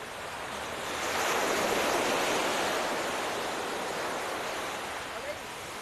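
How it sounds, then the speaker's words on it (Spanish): Sea waves washing onto the Atlantic coast of Portugal, a steady broad rushing surf that swells and slowly recedes, moderately loud and heard alone. "El mar."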